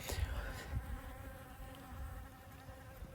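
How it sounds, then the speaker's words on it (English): Faint, steady honey bee buzzing at close range near hives, with a few soft bumps and handling noises around it and no talking. "There's already a bee."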